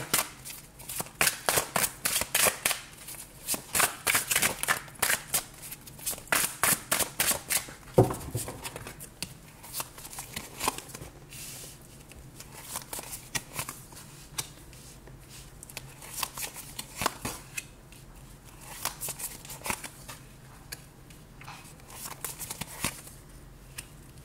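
Tarot cards are shuffled for a reading in a run of quick, crisp riffling and flicking bursts with short pauses between them, close and fairly quiet, and no one speaks.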